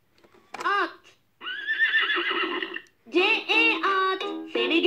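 A Fisher-Price activity table toy plays a recorded horse neigh, several bright electronic whinnies in quick bursts separated by short pauses, close and clear.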